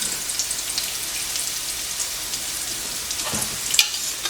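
Bacon frying in a pan next to pancake batter made without regular flour, a soft continuous crackling sizzle with scattered pops and a slightly louder burst near the end, close by and fairly quiet.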